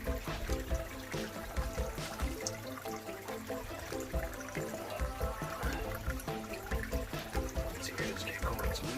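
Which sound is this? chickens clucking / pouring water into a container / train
pouring water into a container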